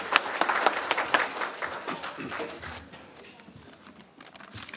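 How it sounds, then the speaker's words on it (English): An audience at a Bradenton Kiwanis meeting claps for a student Builders Club, loud at first and then thinning out over a few seconds with scattered individual claps. "one more round of applause for our amazing Builders Club"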